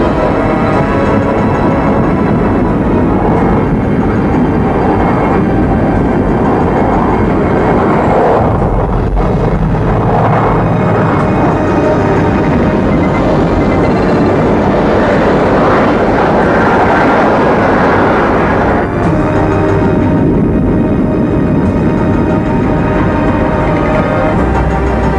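A stealth fighter jet taking off at full power, a loud, sustained roaring rumble that holds steady throughout with slight swells, a dense engine drone filling the scene.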